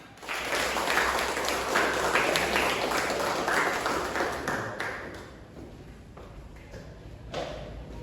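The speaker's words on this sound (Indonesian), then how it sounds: "Tepuk tangan" A small group claps together after a fire extinguisher demonstration, a burst of applause that starts abruptly, holds for a few seconds and then tapers off into scattered claps.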